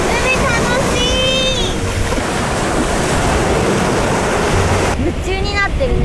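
Sea waves wash constantly at a beach, a loud steady roar of surf with wind buffeting the microphone, while voices call out over it.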